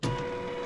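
An embroidery machine begins a top stitch while sewing dog poop bags in the hoop, with a steady, close mechanical whir and rapid needle chatter that holds level after a quick onset.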